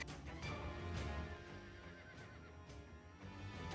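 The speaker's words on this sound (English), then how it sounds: "A sharp, hateful neigh erupted, followed by the rippling, heavy roar." In the video game Battlefield Waltz, a horse neighs sharply over a dense battle din with hoof clatter, the whinny rising out of the steady roar early on.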